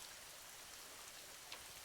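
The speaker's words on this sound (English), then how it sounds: "You hear a soft pitter-patter. It's rain." Light rain shower pattering softly and steadily, a faint, even hiss of drops with one slightly sharper tap near the end.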